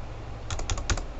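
Quick clicking keystrokes on a computer keyboard, a short burst of taps over steady background hiss.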